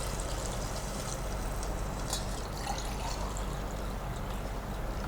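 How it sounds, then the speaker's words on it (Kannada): Water being poured into rice for a village-style pulao, a steady close pouring and trickling sound that runs unbroken and fairly quiet, with no talk. "ಮಿಕ್ಸ್ ಮಾಡಿಕೊಂಡು ಇದಕ್ಕೆ ನೀರು ಹಾಕ್ತಾ ಇದ್ದೀರಾ?"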